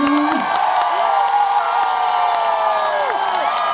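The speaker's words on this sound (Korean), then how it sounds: "큰 박수 한번 주세요." A large outdoor crowd at the Suncheon Bay song festival cheers and applauds, a broad wash of clapping and shouts under a sustained musical tone and a brief gliding voice-like sound near the start.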